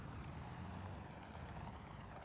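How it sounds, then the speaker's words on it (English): A tractor engine runs on a family farm, a steady, unbroken drone heard alone without talk, fairly soft and rumbling throughout. "gotta love the sound of this tractor"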